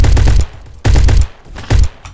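Gunfire from a Roblox shooter game, Bad Business, sounds in three loud bursts of rapid shots with short gaps between them, close and clear with no talk over it.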